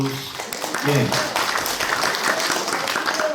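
Applause from an audience in a National Assembly Library auditorium after a congratulatory speech, dense and steady for a few seconds with voices mixed in near the start.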